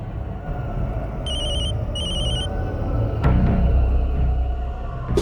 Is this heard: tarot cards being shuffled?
no